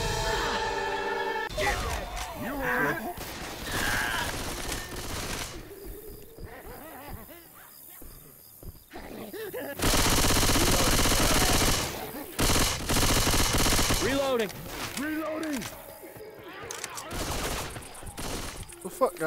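Gunfire in the zombie shooter Left 4 Dead 2: bursts of rapid automatic fire and loud sustained volleys, some long and dense, broken by quieter stretches with in-game voices and music.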